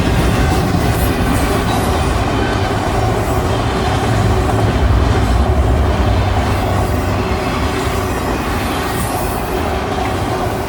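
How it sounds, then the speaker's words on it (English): A train rolls past close by with a loud, continuous rumble of wheels on rail and faint squeals, holding steady throughout the passage. "Train. Please hold."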